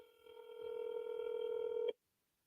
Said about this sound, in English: we like the ringtones